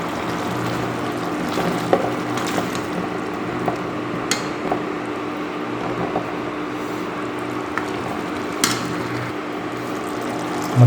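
Chicken liver masala bubbling in a pan, a steady close simmer of popping and gurgling liquid with occasional sharper pops throughout, no voices.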